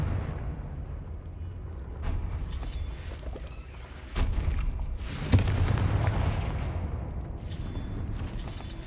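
Fiery Confringo blast spells bursting in Hogwarts Legacy, a series of booming explosive thuds over a constant rumbling game backdrop, with a sharper blast near the middle.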